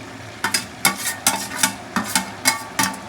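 Fried capsicum being stirred into kadai chicken in a wok, a spoon scraping and tossing in repeated strokes about every half second over a soft background sizzle, close and clear with no talking.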